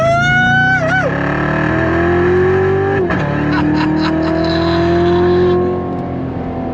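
A Chevrolet C7 Corvette Z06 engine revs hard and accelerates close-up, with rising pitch sweeps through the gearshifts and a continuous loud drone that eases off briefly near the end.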